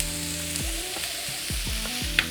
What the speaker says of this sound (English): We've got hamburger in the other side, and we're just gonna cook this down and get it browned.